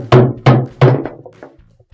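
A screwdriver is hammered against the lip of a worn tub bearing to drive it out of a washing machine tub: three loud, sharp metallic knocks about a third of a second apart, then a few lighter taps trailing off.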